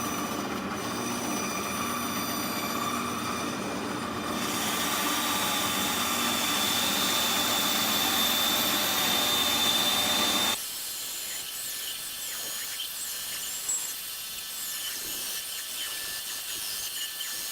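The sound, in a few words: bandsaw cutting a circle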